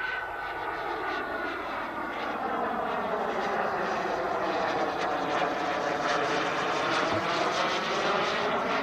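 Tuono NRG radio-controlled plane flies overhead at under half throttle, its steady buzzing motor whine rising and falling in pitch as it passes, continuous and fairly loud throughout.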